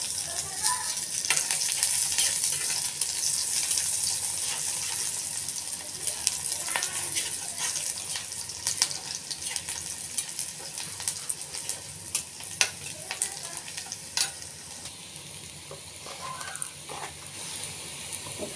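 Onions and chilies fry in a pan while being stirred, a continuous close sizzle with scraping stirs and small crackles throughout, fairly quiet and steady.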